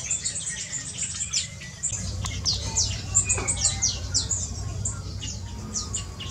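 Captive birds in a planted aviary that imitates their wild habitat give many quick, high chirps and tweets, scattered and overlapping at a moderate distance over a low, steady background hum.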